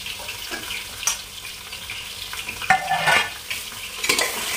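Aloo baingan, a potato and eggplant curry, stirred and roasted in a pan, with scraping and shuffling strokes over a light sizzle and a few louder scrapes.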